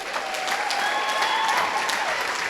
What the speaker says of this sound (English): Round of applause for the bride